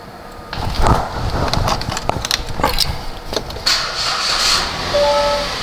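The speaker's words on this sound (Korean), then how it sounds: "먼저 시동을 한번 걸어볼게요" Inside a Kia All New Morning light car, a few soft clicks and thumps lead to the engine catching, then settling into a steady, fairly loud idle hum with a faint whine.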